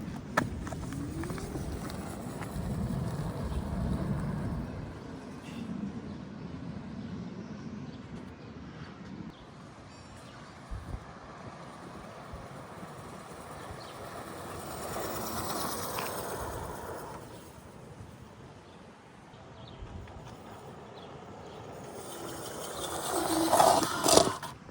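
A Segway GT3 electric scooter rides down a street. Its soft rolling whir and road noise swell and fade as it passes, with a louder rise near the end.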